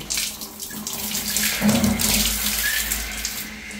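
Tap water runs in a house, a steady close rush and splash into a basin with no pause and no voices.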